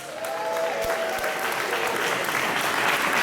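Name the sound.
audience applause at British Blues Awards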